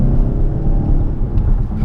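A 2018 Mazda 6 Turbo pulling hard in third gear, heard from inside the cabin as a loud, steady low engine rumble and drone without a break.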